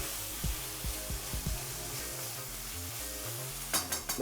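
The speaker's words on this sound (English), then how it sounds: "Let that fry for another couple more minutes." Tuna and new potatoes frying in a pan, with a steady close sizzle broken by a few louder stirring scrapes and clatters, quiet in the middle and busier clinks near the end.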